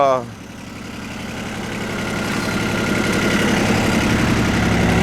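A low, steady engine idle rumbles throughout, loud and close, with a slight rise in level after the first second.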